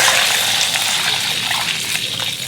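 Water pours into a wok of chili oil fried with bean paste, scallion, ginger and garlic, making a loud close gush and splash with a light sizzle that eases slightly toward the end.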